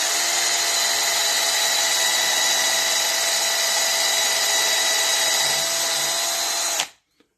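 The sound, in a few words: power drill driving wood screws into jig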